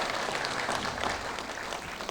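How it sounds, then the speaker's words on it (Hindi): Steady, fairly distant applause fills a hall at a Hindi-language organic farming program, a dense even wash of many hands that holds without a break. "तालियों से जो है सम्मानित करें।"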